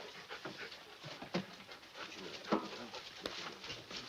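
A dog pants in quick, soft bursts, fairly faint and close by, with a few brief whimpers and sharper sounds mixed in, in an old 1948 film soundtrack.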